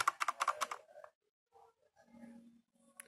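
A Gamesir Z1 one-handed gaming keyboard gives a rapid run of crisp, mechanical-sounding key clicks up close. A few softer taps and a quiet stretch follow.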